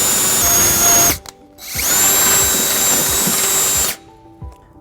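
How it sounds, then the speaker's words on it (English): Power drill bores a 1/2 inch hole in the steel frame of a 2019 Nissan Sentra for a trailer hitch: two loud, steady whining bursts separated by a brief pause, then stopping. "there is not an existing hole in the frame, so we're going to have to drill that"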